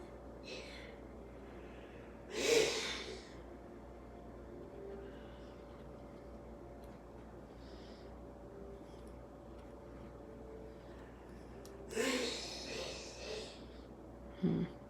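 A man coughs a few times in the background of a quiet room, faint and distant bursts set against low steady hum.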